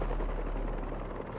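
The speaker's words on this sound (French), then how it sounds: "Des pales d'hélicoptère, c'est ça." Helicopter blades in the Marvel's Spider-Man 2 video game, a continuous low rhythmic thumping pulse with a dense rumble, loud and steady throughout with no talk.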